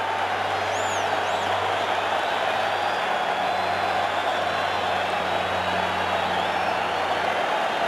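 Steady, dense roar of a packed football stadium crowd in an NFL Wild Card playoff game between the Giants and 49ers, waiting on a replay review, a continuous murmur filling the space with no clear peaks.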